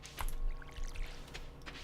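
A watering can pours water onto crops in the video game Stardew Valley, a faint splashing trickle lasting under two seconds over quiet game background.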